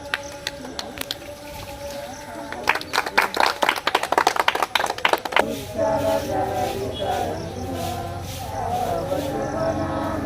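People clap at an Independence Day celebration, a burst of loud, uneven hand claps near the middle before the clapping gives way to voices singing together, with talk heard around it.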